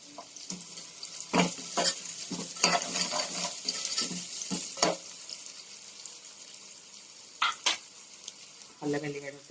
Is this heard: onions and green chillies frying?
yes